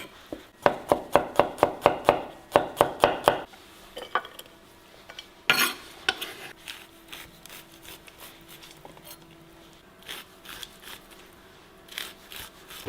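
Spring onions being chopped with a knife on a board in a home kitchen, a quick run of about a dozen sharp, evenly spaced taps, then a pause and scattered slower cuts and clatters close by.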